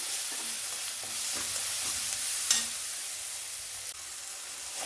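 Ginger garlic paste frying with tomato and egg in a pan, a constant close sizzle broken by repeated scraping stirs and a few clinks of a spoon against the pan.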